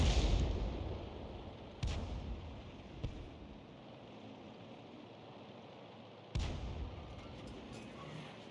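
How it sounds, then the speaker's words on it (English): A Grille self-propelled artillery gun fires in a tank video game, with a few sharp, heavy booms spaced seconds apart against a low background rumble. "We're firing blind"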